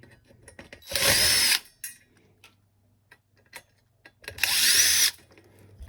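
A power drill spins out radio screws in a Toyota Sienna dash: two loud, close half-second whirring bursts separated by a few faint clicks and near-silence.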